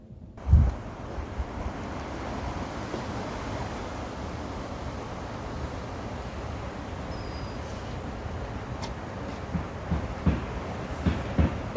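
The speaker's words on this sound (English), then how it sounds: "It's too windy out here." Strong wind buffets the microphone outdoors during a sewing session cutting patchwork skirt strips, a loud continuous low rumbling roar with gusty bumps, no talking.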